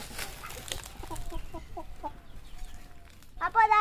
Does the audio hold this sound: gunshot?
no